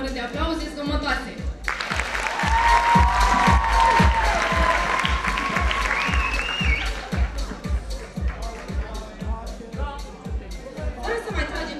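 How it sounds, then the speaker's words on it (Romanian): Loud applause fills a high school freshmen's ball in Moinești, a dense crowd clapping that settles into steady rhythmic unison claps, with cheers and chatter mixed in. "credem că merită o oră de aplauze zgomotoase"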